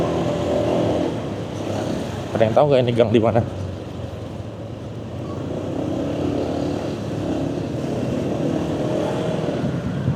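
Busy alley packed with cars and motorcycles in a traffic jam, a steady rumble of idling and creeping engines throughout, with someone speaking briefly over it near the start.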